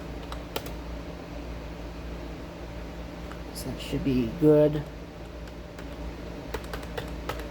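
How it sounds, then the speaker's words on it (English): Someone types on a basic computer keyboard at a desk while setting up a server, giving scattered soft key clicks over steady fan hum, with a short burst in the middle and a few words spoken. "This is not a very nice keyboard"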